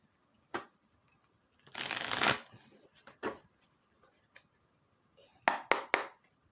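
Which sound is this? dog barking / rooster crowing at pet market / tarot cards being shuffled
tarot cards being shuffled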